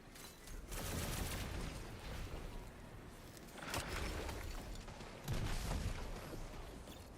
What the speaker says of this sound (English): Watch out for the nade.